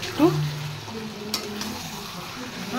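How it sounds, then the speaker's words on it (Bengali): Mutton stir-fried in a pan for a Tehari biriyani, with a steady close sizzle and a few brief scrapes of a utensil against the pan. "এবার মটনটা আমি একটু ভালো করে কষিয়ে নেব।"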